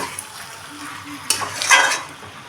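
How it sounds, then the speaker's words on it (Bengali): Rohu fish head and Malabar spinach being stirred in a pan, with a soft continuous sizzle under scraping utensil strokes that grow louder and busier in the second half. "ভালো করে নাড়িয়ে এপার মানে এপাশ ওপাশ করে সবগুলো নিচেরগুলো ওপরে, ওপরেরগুলো নিচে করে দিয়ে নেব"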